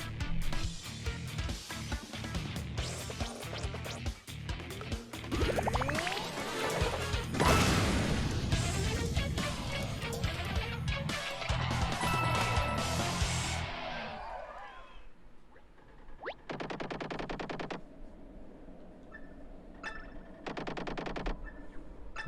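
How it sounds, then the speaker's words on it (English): Game explosions and crashing blasts from Paper Mario The Origami King come as a dense, loud barrage of booms and clattering impacts over about fourteen seconds, then thin out into sparser bursts and rumbles. "That explosion makes me think this game was directed by Michael Bay."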